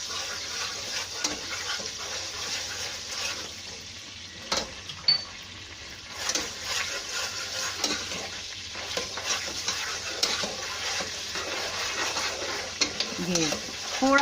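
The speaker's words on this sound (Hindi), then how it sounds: "अब हम इसमें लहसुन अदरक शामिल करेंगे। क्योंकि पतीला हमारा गर्म था तो फ़ौरन ही लहसुन जो है ऑयल गर्म हो गया" Garlic and ginger frying in hot oil in a pot for mutton ginger, a loud continuous sizzle with intermittent stirring scrapes and clatter over a long stretch.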